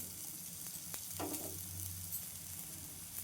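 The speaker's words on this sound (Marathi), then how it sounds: "छान भाजून घ्यायचं तेल टाकून" Food frying in oil on a stovetop for a high-protein breakfast dish, a steady soft sizzle with a low hum beneath and a brief scrape of a utensil pressing the food down partway through.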